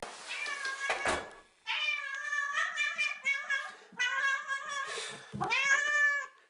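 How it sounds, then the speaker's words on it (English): A domestic cat meows several times up close, with long, insistent, drawn-out calls, some rising and wavering, separated by brief pauses. "Meowing's one of those ones where there are positive meows, there are negative meows."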